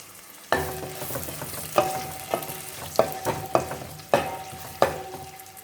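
Two medium onions, chopped, fry in oil with curry leaves for a green peas and brinjal curry, a steady close sizzle broken by repeated sharp spatula scrapes against the pan roughly every half second to second.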